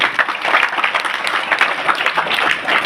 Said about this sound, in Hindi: एक बार जोरदार तालियां उसके लिए।